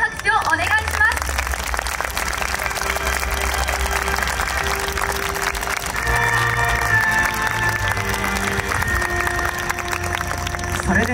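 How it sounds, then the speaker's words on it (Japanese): Sustained applause from a large crowd at the awards ceremony of the Koiya festival in Japan fills the space, steady and loud throughout, with music playing underneath. "もう一度大きな拍手をお願いします"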